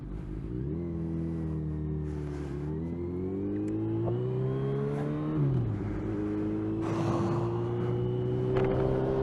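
A car engine revs and accelerates hard, climbing in pitch through a gear change and pulling again, steady and fairly close with no talk over it.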